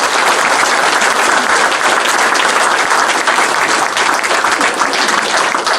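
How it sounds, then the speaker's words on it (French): Dense, steady applause from a large audience, loud and continuous for several seconds. "Je vous demande d'applaudir Hélène Colombier pour son engagement."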